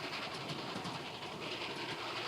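A train runs on rails in a steady, broadband rumble with a faint rhythmic clickety-clack from the wheels, continuous and without talk.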